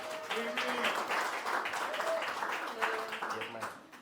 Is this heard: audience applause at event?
yes